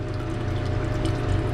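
Hydrochloric acid poured into a jar of silver nitrate rinse water, a steady continuous liquid pour with a low rushing, gurgling tone at close range.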